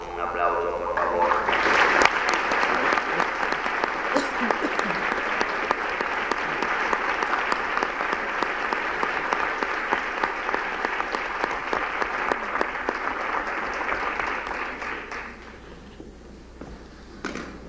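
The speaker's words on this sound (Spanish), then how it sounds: "admirado director Eugenio Barba, para quien pido un aplauso, por favor." An audience in a theatre gives a director warm, sustained applause, loud and dense for about fourteen seconds before fading out.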